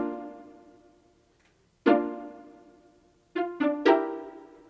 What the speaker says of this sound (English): the Pizzicato strings, and they sound like this